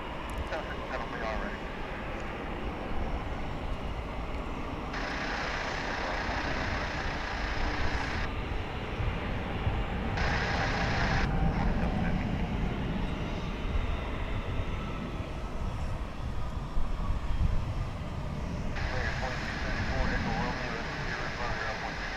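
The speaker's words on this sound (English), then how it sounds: "That was American Flight 2750 coming in from San Antonio in Texas." American Airlines Flight 2750 airliner from San Antonio landing at DFW International Airport, a steady broad jet roar holding throughout at moderate distance, with a person talking over it.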